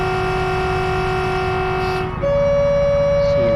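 A Renfe 592 diesel train in Train Simulator Classic sounds its horn at a level crossing on the Lleida–Balaguer line. One loud, steady tone switches to a second, higher sustained note partway through, heard close and over a low engine drone.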